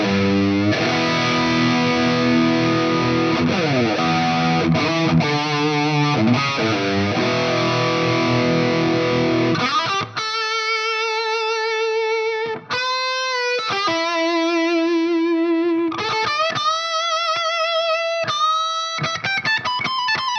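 Heavily distorted PRS Custom 24 electric guitar on its bridge pickup plays chords and then single sustained notes and riffs, loud and continuous through the high-gain channel of an amp.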